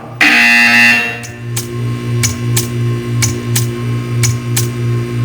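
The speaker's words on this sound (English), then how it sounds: "You will hear a buzzer." A Portal 2 buzzer sounds alone as a steady mid-pitched tone with strong harmonics, loud and sustained, a brief harsh burst at the start and faint clicks spaced through it.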